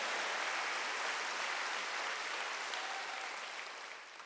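A Korean church congregation at a Wednesday worship service breaks into applause, a thick, continuous roar of many hands clapping that holds steady and then gradually fades out.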